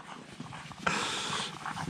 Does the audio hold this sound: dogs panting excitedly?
yes